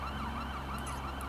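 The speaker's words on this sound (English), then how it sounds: "And the ambulance is back. I can hear it already." Ambulance siren in Watch Dogs 2 on a city street, a wailing tone rising and falling in quick repeated sweeps, heard faintly at a distance for about a second.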